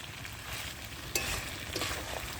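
Chicken stir-fries in a pan with cumin and chili paste. A soft, quiet sizzle with light stirring scrapes continues throughout the short stretch.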